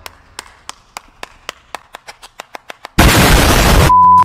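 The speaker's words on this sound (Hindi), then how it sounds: "अरे यार जीती है थोड़ा तालियां वालियां बजा।" Applause breaks out at a freshers' coding quiz at IIT Bombay, starting as sparse single claps that build into a dense, loud burst of many people clapping together, then stopping abruptly with a short electronic beep.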